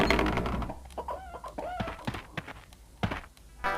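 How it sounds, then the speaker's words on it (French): Chickens cluck and squawk in the Duke Nukem video game, a few short bursts close by over a low game-audio background. "On a des poules ici."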